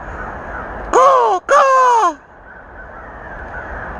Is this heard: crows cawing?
yes